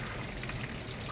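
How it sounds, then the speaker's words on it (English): A small outdoor waterfall makes a steady, even rush of splashing water, soft and continuous, with no voices. "let me show you this absolutely delightful little waterfall"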